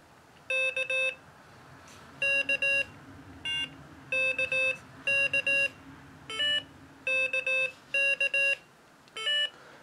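Morse code CW practice tones from a Morserino-32 trainer, groups of short and long electronic beeps sounding in quick bursts with short gaps, loud and close, with no speech.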